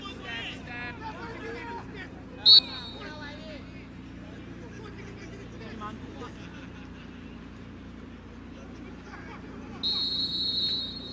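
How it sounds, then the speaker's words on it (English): Referee's whistle at a Central derby football match at St. James Barracks: a short sharp blast early on, then a longer sustained final blast near the end, both cutting through steady crowd murmur and chatter. "And that is the final whistle from the St. James Barracks in this Central derby."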